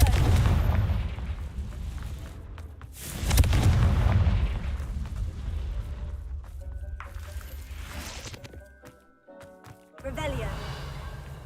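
A Confringo spell in Hogwarts Legacy bursts with deep booming blasts and rumbling impacts, one near the start and another around the middle, under a steady bed of game sound, with a voice speaking at points.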